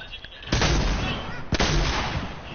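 Shotgun blasts in a shotguns-and-jetpacks video game mode: two loud, booming shots about a second apart over continuous game noise, heard close and forceful.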